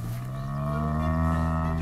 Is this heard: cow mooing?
yes